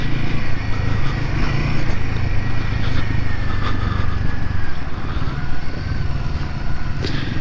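A Royal Enfield Himalayan 450 motorcycle rides through mud, its engine a loud, close, continuous drone with a rumbling low end and small shifts in revs, no voices over it.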